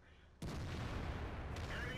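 A single sudden heavy T110E5 tank cannon blast in World of Tanks with a long rumbling tail, followed by a second softer impact near the end.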